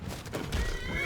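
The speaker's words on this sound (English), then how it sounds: "He's fighting the horse." A horse neighs in the Skyrim video game amid fighting, a short whinny over a busy low rumble of game sound, with no one speaking.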